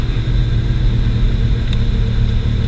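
An Infiniti G35 with a short shifter drives and changes gears, giving a continuous, close, loud low engine and road rumble.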